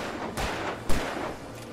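Three sharp gunshots ring out in Alan Wake Remastered, spaced about half a second apart, each a close crack with a short rumbling tail, the middle one loudest.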